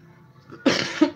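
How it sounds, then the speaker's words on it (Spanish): A single harsh cough bursts out after a quiet moment, followed by a shorter second cough and the start of another, close by. "Estoy un poco mal con la tos"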